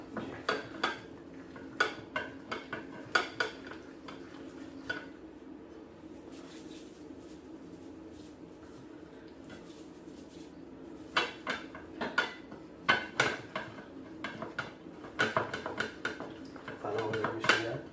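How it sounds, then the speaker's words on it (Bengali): Hilsa fish is mixed by hand with salt and spices in a bowl, making intermittent clinks and wet rustles in bursts, with a quieter stretch in the middle. "ভালো করে মিশিয়ে লবণের লগে এখন আমি মাছটা মাখাই"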